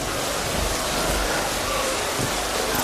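Steady rain falls as an even, dense hiss, loud and close, with no talk over it.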